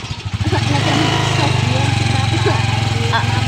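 Motorcycle engine running at a steady idle close by, a continuous low throbbing drone that holds even for the whole stretch, with faint voices in the background.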